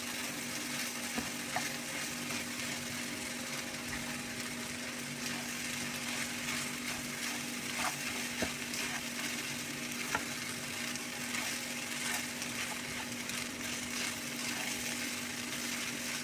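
Cooked rice being mixed in a hot pan gives a steady, close sizzle with intermittent scraping and stirring strokes over a constant low hum, continuing without pause.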